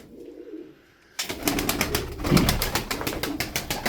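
Tumbler pigeons coo nearby after a quiet start, their low calls joined by sudden loud rustling and fluttering that continues in quick bursts.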